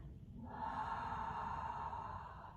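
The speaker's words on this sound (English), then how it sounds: "Exhale through the mouth." A steady, breathy exhale through the mouth during ujjayi breathing practice, one long continuous airy rush lasting a couple of seconds, soft and close with no talking.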